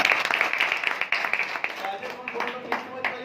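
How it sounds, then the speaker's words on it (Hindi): An audience claps in scattered bursts at a monthly HDFC Bank meeting for CSC operators, the uneven claps running under someone speaking throughout. "ताली हो जाए"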